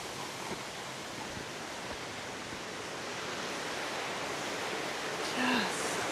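A waterfall near Perth pours as a steady, broadband rush of falling water, continuous and fairly close, with a faint brief higher tone near the end.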